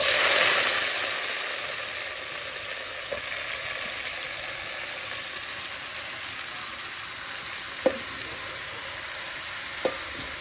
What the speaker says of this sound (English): I'm gonna add my callaloo and my pumpkin and my carrot to the pot